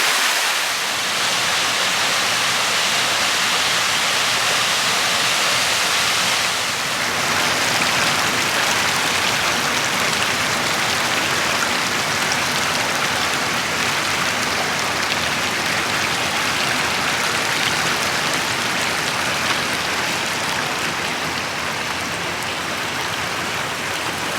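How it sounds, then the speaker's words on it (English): Runoff water from Lake Padden rushes heavily through a channel near a log jam, a loud continuous close roar that stays steady throughout with no talk. "This runoff area is still trickling pretty heavy through here."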